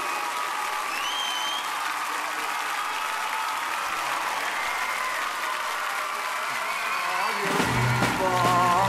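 A concert audience at a live solo show claps in sustained applause with scattered whistles. Near the end a loud voice cuts in over the clapping.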